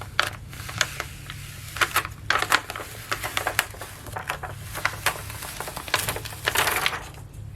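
The top layer of a heat-pressed vinyl transfer is peeled away in a series of sharp crackling, ticking bursts, close and irregular, over a low steady hum from nearby equipment.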